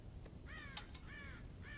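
Crows caw in the game Red Dead Redemption, three short, harsh calls in quick succession, faint over a steady ambient outdoor background with no voices.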